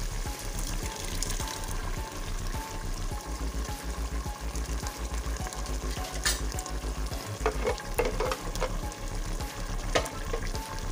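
Loud continuous sizzling and frying in a pan, with stirring and a wet splashing texture as spinach puree is mixed into cooking meat.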